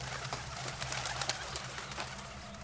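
Pigeons coo softly and repeatedly inside the Agrasen ki Baoli stepwell over a low steady hum, with no voices present.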